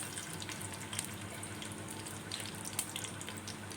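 Water is poured into a pot of sugar and ghee for sweet rice syrup, giving a steady soft hiss and splash with faint sizzling crackles throughout.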